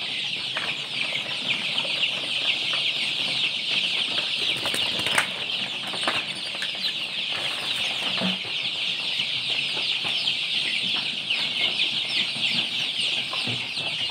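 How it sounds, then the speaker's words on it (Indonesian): KUB kampung chickens in a warm poultry house cluck and chatter continuously at close range, with occasional wing flaps and sharper calls over the dense flock noise, no talking. "Karena emang ayam ini suka yang panas, hangat."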